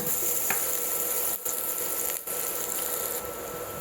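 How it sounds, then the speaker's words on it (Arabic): Garlic goes into a pan of wilting onions and sizzles with a steady, close hiss and occasional crackles and scrapes as the pan is stirred, the frying broken by two short dips. "مجرد ما البصل ما يبتدي يدبل احط الثوم برضو ياخد تشويحة كده"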